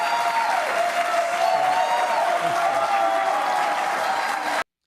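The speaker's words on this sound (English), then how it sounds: "The longer they clap and scream, the less I have to talk." Comedy show audience applauding and cheering, a loud, sustained roar of clapping with whoops and shouted voices mixed in, continuing steadily before cutting off abruptly.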